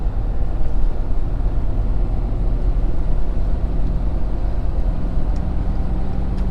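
A 2020 Ford Powerstroke diesel Super Duty pickup accelerates while towing 14,500 lbs, producing a steady, loud low engine and road drone heard from inside the cab without speech.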